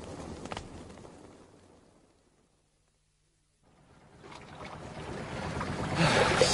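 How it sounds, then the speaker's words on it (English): A boat's auxiliary engine runs as a radio drama effect, a low, soft churning that fades away to silence and then swells back, growing louder toward the end, with no voices. "I've got the auxiliary engine going."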